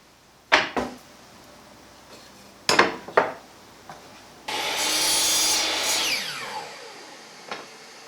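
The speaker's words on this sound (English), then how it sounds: "I'm just going to cut off the corners and round it off a bit nicer" A saw cutting the corners off a wooden piece for a DIY frame clamp: a few sharp knocks as the wood is positioned, then one sustained rasping cut of about a second and a half, close and moderately loud.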